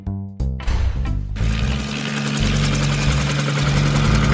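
An Imaginext Batman toy helicopter switches on with a few clicks, then a steady electronic whirring rotor and engine sound drones loudly and continuously at close range.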